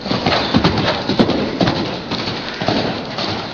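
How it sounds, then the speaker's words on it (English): A lame horse cantering, its hoofbeats thudding in a steady repeating clip-clop rhythm, close and fairly loud over a few seconds. "watch the stupid lame horse canter"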